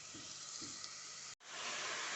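Vegetable mixture with spices frying in a pan, a steady close sizzle and hiss with a couple of soft stirring bumps and a brief cut near the end.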